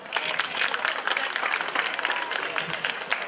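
Audience applause at an interethnic cultural evening in Tulcea, with a dense, sustained burst of many hands clapping at moderate loudness and some voices mixed in.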